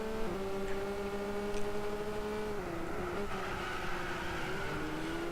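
A race car drifting in Gran Turismo during a Group A race: a steady, sustained engine drone with shifting pitch as revs hold and dip through the slide, fairly loud and continuous, with no voices.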